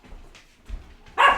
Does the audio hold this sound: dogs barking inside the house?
yes